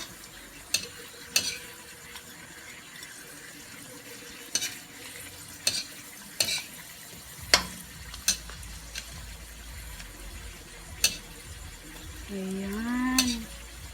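Potatoes fry in a pan with a steady sizzle, broken by scattered sharp clicks and scrapes of a utensil, and a brief squeaky tonal sound near the end.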